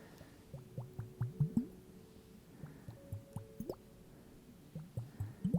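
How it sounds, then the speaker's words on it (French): Soft wet bubble plops from a small ASMR bubble toy, a series of close, quiet pops in irregular bursts with brief pauses between clusters. "Mais ça fait des bruits de bulles vraiment très sympas, tu vois, comme ça."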